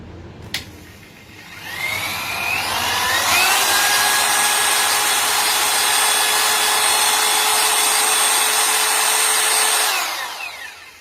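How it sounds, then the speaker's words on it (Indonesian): An electric drill running in its normal drilling mode, not hammer mode, at about 540 watts, spins up with a rising whine, holds a loud, steady high-pitched drone for several seconds, then winds down. "sini saya coba di mode ngebor biasa dulu ya"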